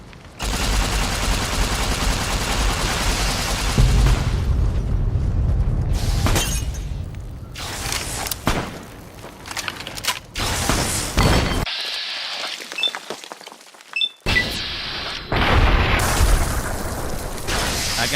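Loud bomb explosions in Fallout: New Vegas, a string of heavy booms with shattering debris and gunfire-like bursts over about eighteen seconds, with brief quieter gaps between blasts.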